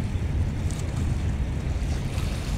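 Low-tide sea waves wash against the shore at a fishing spot, a steady broad roar of surf mixed with buffeting wind on the microphone.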